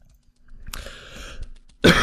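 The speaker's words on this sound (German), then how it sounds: "Husten." A person coughs: a sharp, loud burst near the end follows a stretch of softer throat-clearing rasps, close to the microphone with no speech.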